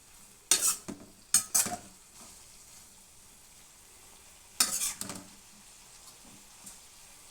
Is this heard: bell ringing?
no